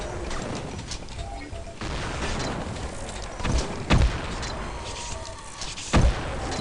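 Rocket launcher fire in Duke Nukem 3D, played in the Nuclear Meltdown total conversion: two loud booming blasts a couple of seconds apart, each a sharp low thud, over a steady backdrop of game ambience.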